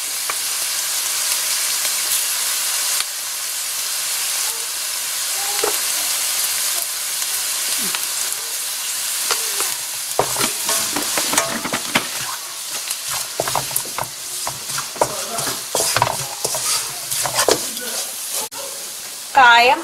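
Red chili powder frying in hot oil with garlic for Kerala mango pickle, a loud continuous sizzle and hiss with scraping stirs growing busier in the second half, close up, with a voice speaking over it at times.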